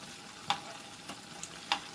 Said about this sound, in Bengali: এবার এগুলোকে ভাজা বসিয়ে দিলাম তেলটা গরম হয়ে যাওয়ার পর